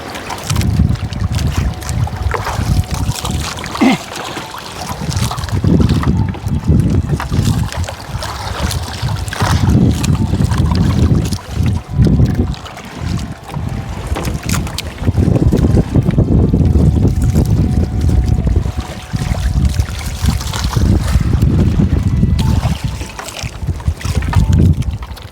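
Strong wind buffeting outdoors during a boat trip, gusting roar and rumble with surging low noise throughout, loud and close, with faint boat and water sounds beneath.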